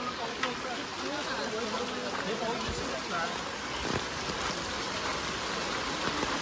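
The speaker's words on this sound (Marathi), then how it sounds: "खूप पाऊस आहे." Heavy rain pours steadily in a railway colony in Parel, Mumbai, a constant dense hiss with faint background voices.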